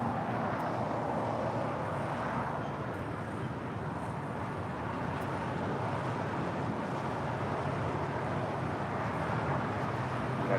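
A Lufthansa airliner in from Frankfurt arriving at LAX, heard as a continuous broad jet roar at a moderate distance, steady for the whole stretch with no voices.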